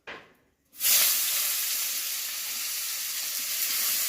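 Oil sizzles loudly in a kadai, a brief sound first, then a short pause before a sudden steady, hissing frying that carries on evenly to the end.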